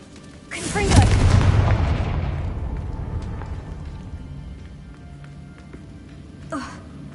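A Confringo blasting spell explodes in the video game Hogwarts Legacy, one loud booming burst followed by a long rumbling decay, with a smaller crackle a few seconds later.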